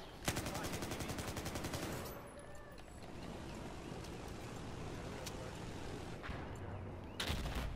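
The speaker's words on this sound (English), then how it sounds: "Someone keeps taking shots at me." Gunfire in Battlefield 4: a rapid automatic burst of rattling shots at the start, then a noisy, rumbling battlefield wash with scattered distant shots, all fairly quiet in level.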